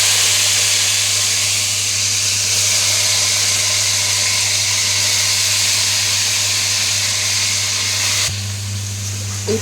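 Chicken pieces frying in hot oil with garlic and turmeric hiss and sizzle loudly and steadily under a low hum, with a slight shift near the end.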